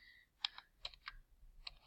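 Keys on a computer keyboard clack in an uneven run of about eight crisp, close strokes, with short pauses between bursts and no talking.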